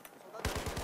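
Rapid automatic gunfire from the video game Battlefield 4, Dragon's Teeth DLC, bursting in suddenly after a quiet moment as a loud, close, rhythmic rattle of shots.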